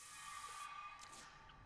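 A healing spray in Resident Evil 2 Remake hisses in one continuous burst, close and steady, fading slightly toward the end.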